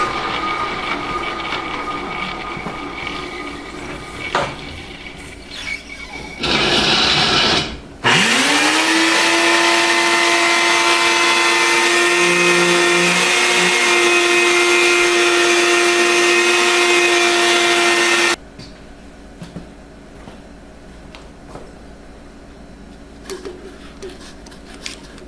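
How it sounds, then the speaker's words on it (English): A vacuum cleaner switches on with a rising whine and roars steadily for about ten seconds while sucking up graphite dust near an induction heater setup, then cuts off abruptly, leaving quieter workshop clatter before and after. "Now I'm going to shut the thing off and suck up all the graphite dust."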